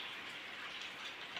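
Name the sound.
rain falling in a village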